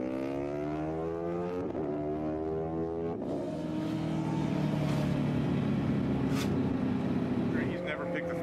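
A MotoCzysz electric racing motorcycle runs on a test stand, its motor whine rising and shifting in steady sweeping tones at close range, with a voice talking over it.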